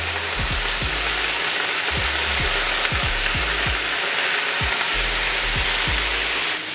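Frozen broccoli and enoki mushrooms sizzle loudly in a pan, a steady, dense hiss with scattered low clicks and pops and no talking.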